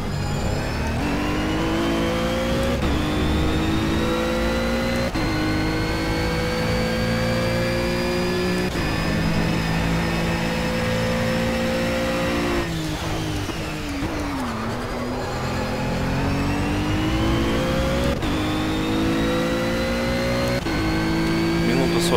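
A Ginetta GT4 race car engine in Project CARS drones and revs steadily through the gears, with rising whines broken by brief shift dips, continuous and fairly loud. A voice may be talking over it.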